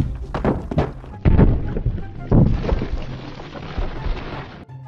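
Animated cannonballs land with heavy booming thuds, two strong impacts followed by rumbling decay and a rain-like crackle, loud and close.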